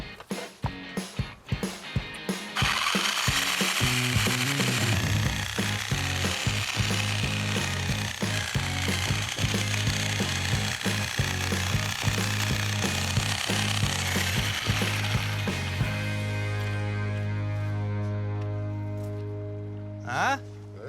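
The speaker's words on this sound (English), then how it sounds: "If you can grab a Sawzall, we'll make it more flat" A Sawzall reciprocating saw cuts a tree stump flat at an outdoor site where rocks are being leveled for a three-story deck. A few sharp clicks lead into a loud, steady buzzing that runs for about thirteen seconds before winding down.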